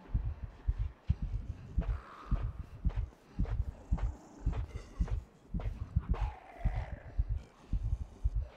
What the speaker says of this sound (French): J'ai ce cœur qui bat là,